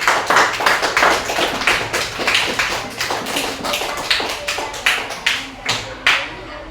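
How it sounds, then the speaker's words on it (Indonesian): Classroom students clap for a group that has just presented, a fast run of loud, distinct close claps with a bouncy, slightly uneven rhythm that fades out at the end. "tepuk tangan dulu untuk kelompok 1"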